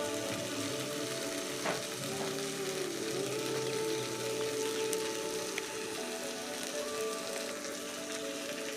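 Masala spices hit a hot pan, setting off a steady close crackling sizzle that continues throughout, with faint clinks and stirring.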